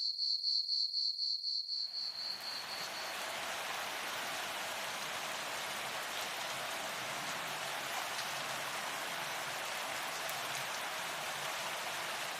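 Heavy rain pours down steadily in a forest of grassland and jungle at Jaldapara National Park, a dense continuous hiss that follows a brief high insect or cricket trill at the start.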